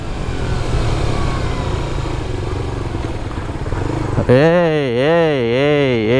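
A Suzuki GSX-R 150 motorcycle fitted with aftermarket suspension rides along with a loud, steady engine and wind rush. Near the end, a wavering tonal wail abruptly takes over.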